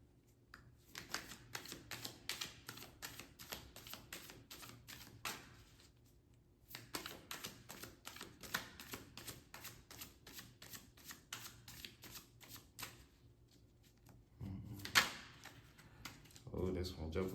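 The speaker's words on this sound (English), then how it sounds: "I'm gonna pull some more tarot cards" Tarot cards shuffled close at hand in a long, steady flurry of quick riffling flicks, pausing briefly before resuming, with a soft thump near the end as cards come out.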